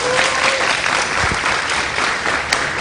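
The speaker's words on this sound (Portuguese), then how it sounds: "uma salva de palmas para Hélio de la Penha" Studio audience applauds comedian Hélio de la Penha at a televised humor special, a steady dense clapping that fills the whole stretch at close range without voices on top.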